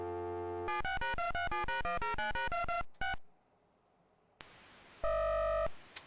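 A MiSTer Commodore 64 core dials a BBS: a rapid series of telephone dialing tones, a pause with faint line hiss, then a single electronic ring tone from the line.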